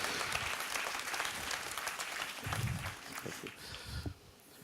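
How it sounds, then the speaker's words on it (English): Conference audience applause at DigitalK 2018 as a speaker is welcomed: a full, steady round of clapping that swells briefly, then trails off into quiet near the end. "The last round of applause."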